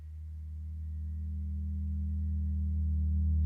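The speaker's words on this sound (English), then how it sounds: "This is a dark pad with the sub." Dark ambient synth pad layered over a deep sub bass, a steady sustained drone that swells gradually louder and holds alone without any voices.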